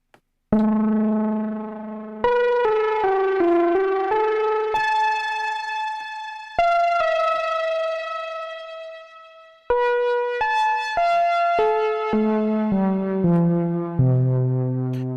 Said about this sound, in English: I got lo-fi reverb